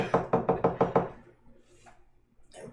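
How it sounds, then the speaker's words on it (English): Six evenly spaced, firm knocks rap on a door, close and loud, then fade into near silence with faint rustling afterward. "So there's a knock at the door."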